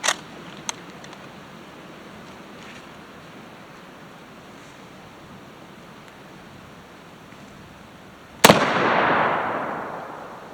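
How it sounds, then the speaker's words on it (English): A single sharp, loud report from a 1943 Lee Enfield rifle, sounding outdoors against steady wind noise, followed by a long rolling echo; a faint click comes earlier in the quiet. "This is going to be my first time shooting 1943 Lee Enfield rifle."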